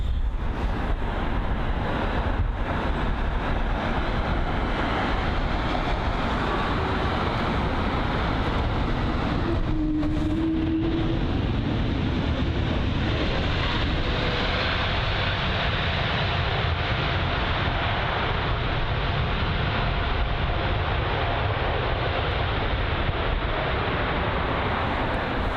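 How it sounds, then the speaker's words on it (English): Swiss Airbus A320neo airliner landing at London Heathrow, a steady broadband jet roar heard at a distance throughout, without reverse thrust. "And here it is, the Swiss A320neo."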